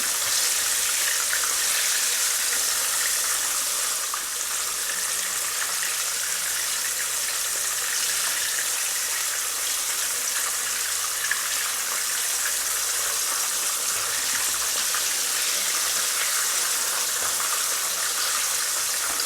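Fish fillet frying in very hot oil, giving a steady, loud, dense sizzle that stays unbroken and close throughout.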